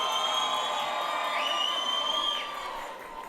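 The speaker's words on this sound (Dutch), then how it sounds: "We gaan nog één keer een heel groot applaus geven aan Moute Chatinier" A crowd at a televised talent-show finale cheers and whoops for a performer, with bright, sustained tones riding over the roar before it eases off toward the end.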